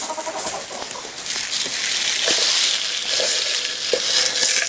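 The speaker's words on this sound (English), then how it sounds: "I'm going to put some more food in there" A scoop of chicken feed pours into a feeder inside an unheated coop, a steady dry rushing and rattling of grain lasting several seconds, close and fairly loud.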